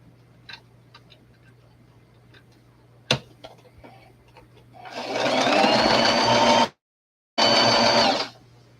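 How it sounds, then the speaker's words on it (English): Small taps and ticks come first as a doll dress sleeve is readied. Then a sewing machine starts up close and loud, whirring steadily for about two seconds, stops briefly, and runs again in a second short burst. "So now I'm gonna sew it up."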